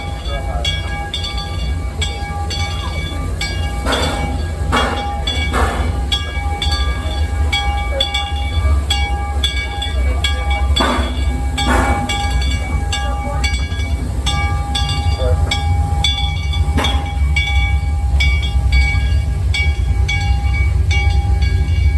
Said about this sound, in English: So I found myself over to the Six Flags Railroad here at Over Texas, and I'm totally gonna go on and give it a ride